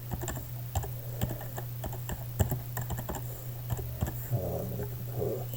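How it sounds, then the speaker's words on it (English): Typing on a computer keyboard, with a steady run of quick, uneven key clicks close by over a low constant hum, no talk. "So we can actually type something here."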